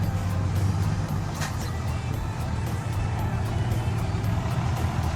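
A custom-styled cabless Isuzu Deca dump truck with a 210-horsepower engine rumbles nearby at a site where soil is being dumped and filled, its loud steady engine drone continuous throughout.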